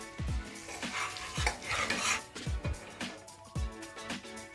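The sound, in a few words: adding and stirring besan flour with spices in a pan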